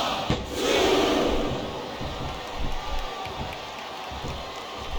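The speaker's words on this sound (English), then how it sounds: "Wow, listen to that chant, Taz." A large wrestling arena crowd roars and chants in a sustained, echoing wall of voices during a mixed tag match, swelling and ebbing under a commentator's talk.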